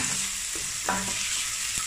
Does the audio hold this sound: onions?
yes